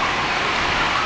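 Heavy rain pours down during a motorbike ride in Aningalan, San Remigio, Antique, a steady, dense hiss of rain and road noise that stays loud and even throughout, with no one talking.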